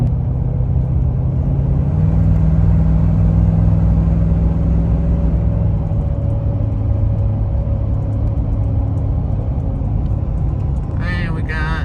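From inside the cab, a tuned 2020 Ford 6.7 Powerstroke diesel with a 5-inch exhaust pulls from 60 to 70 while towing a gooseneck dump trailer, a deep steady drone that shifts pitch once, with brief talk near the end.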